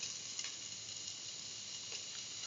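Garlic and tomato pieces sizzle in a frying pan for mustard chicken rice in coconut milk: a steady, fairly faint frying hiss with a few small crackles and no talking.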